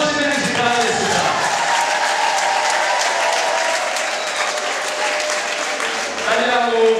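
Wedding guests applaud continuously in a sustained, dense wash of clapping that carries on for several seconds with voices murmuring underneath.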